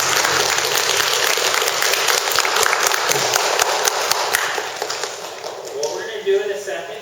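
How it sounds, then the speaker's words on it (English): Second-grade class clapping for firefighters after a demonstration, a crowd of small hands applauding briskly, thinning and fading out toward the end with a few scattered claps. "Give them a round of applause."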